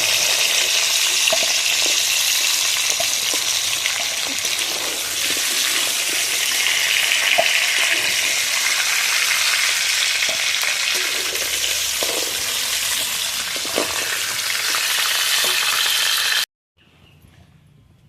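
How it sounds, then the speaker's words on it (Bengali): Loud, steady sizzling of chicken frying in hot oil, with occasional stirring clinks, ending abruptly into near silence. "মাংসটা ভাজা পুরো রেডি এইভাবে লাল লাল করে ভেজে নিয়েছি"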